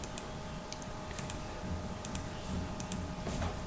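Computer keyboard keys are pressed in quick double clicks, a few spaced taps close by over a faint steady hum, while running ore-modelling software.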